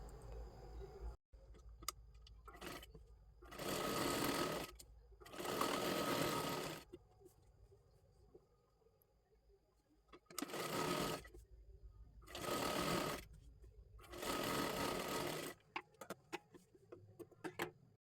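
A sewing machine stitches a sleeve onto a blouse in several steady whirring runs of a few seconds each, close and fairly loud, separated by quieter pauses with light handling clicks.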